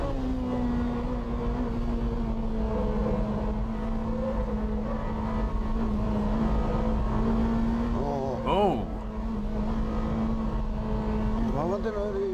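A Honda Integra drives through a bend, its engine holding a steady, fairly loud drone throughout, with a couple of brief rising chirps late on.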